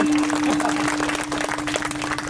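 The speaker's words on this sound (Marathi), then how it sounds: "एकदा जोरदार टाळी वाजवा." Crowd applause at a devotional kirtan gathering for a memorial anniversary, a dense steady wash of many hands clapping at once, loud and continuous, with a constant tone from the sound system running underneath.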